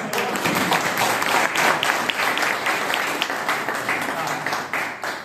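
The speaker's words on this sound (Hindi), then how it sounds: "एक बार गुड़िया के लिए ताली बजाओ" Lively crowd applause for a little girl at a business seminar, dense and continuous with some distinct individual claps, loud throughout with voices mixed in.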